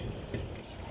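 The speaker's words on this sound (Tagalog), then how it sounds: "Hugas. Dami tubig." Beetroot rinsed under running tap water, a brief, close, steady splashing gush of flowing water.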